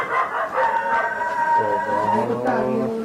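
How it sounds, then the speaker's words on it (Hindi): Several dogs howl together in long, wavering, overlapping tones. The howling is loud and near and fills the whole moment. "कुत्तों ने क्यों घेर लिया हमको?"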